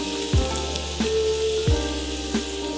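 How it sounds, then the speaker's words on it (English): Chopped garlic tossed into a hot pan sizzles steadily, a close, continuous frying hiss with a few soft knocks and clinks from the pan, no talking. "I'm just gonna take my garlic, throw it right in there. There you go. You wanna hear that nice sizzle."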